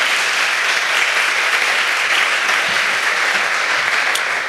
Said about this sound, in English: Let's give all those board members a round of applause.